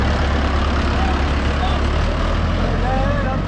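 A Swaraj 855 FE tractor engine runs at a tractor tug-of-war contest, a loud, steady low diesel rumble that fills the whole clip with no pauses.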